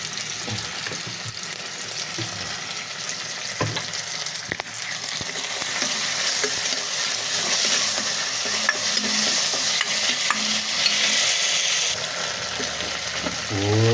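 Chicken wings frying in a pan with ketchup, chicken cubes, onion and garlic, stirred with a utensil, giving a continuous close sizzle with scraping stirs and a few sharp clinks throughout.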